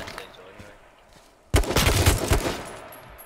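Gunfire erupts in the H1Z1 battle royale game: after a quiet lead-in, a loud burst of rapid shots and booming reports rattles on for nearly two seconds, with faint voices beneath.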